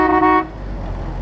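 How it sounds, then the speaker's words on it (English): A single short honk from the horn of a new 4x4 car, loud and close, cutting off sharply into a low engine and road rumble. "I thought that's the horn"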